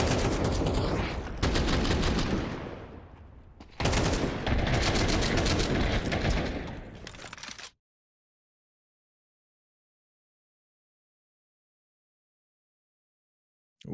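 Gunfire erupting inside middle during a Counter-Strike match, loud dense volleys of rapid shots in two long bursts with a short gap between them, then abrupt silence.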